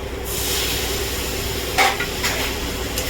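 Water poured into a pan of prawn curry sets off a loud, steady hissing sizzle with a burst of steam, followed by a few short scraping stirs close by.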